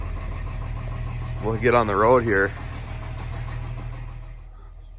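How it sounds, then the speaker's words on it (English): Freightliner trucks warm up on a snowy farm morning, their engines idling in a steady low rumble throughout while someone speaks briefly over it. "The trucks warm up, air up."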